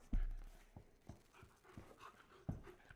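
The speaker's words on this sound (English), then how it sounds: "This whole episode is just like the dog panting" A dog pants quickly and rhythmically close by, soft repeated breathy huffs with a few sharper puffs, no talk over it.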